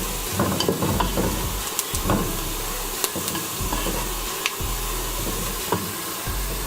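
Onions and cumin fry in hot oil with a constant close sizzle, broken by occasional scrapes of stirring.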